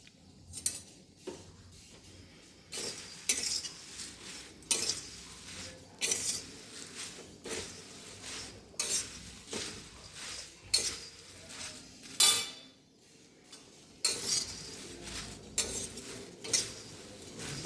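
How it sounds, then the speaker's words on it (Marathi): Puffed jowar and rice flakes are dry-roasted in a pan, with a spatula scraping and clinking against the metal in irregular, close strokes and quieter gaps between them. "आता हे चांगलं भाजून घ्यायचं आहे अगोदर आपल्याला."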